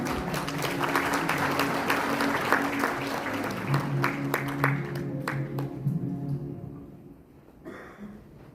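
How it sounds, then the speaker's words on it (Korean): Audience applause at a Gyeongsangbuk-do provincial committee briefing assembly, steady and full for about seven seconds, then fading out as the hall quiets. "위원장님을 큰 박수로 모시겠습니다."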